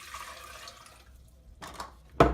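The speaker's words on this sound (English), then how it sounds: "We're going to take our 3 cups of water and dump it" Three cups of water are dumped into an Instant Pot inner pot, a soft splash and trickle followed by a sharp louder pour at the end, close by with no speech.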